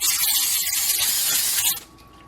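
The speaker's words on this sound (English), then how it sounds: "I'm going to give it a spray with cooking spray." A single sustained hiss of cooking spray from an aerosol can, close and loud for nearly two seconds, then cutting off abruptly into quiet.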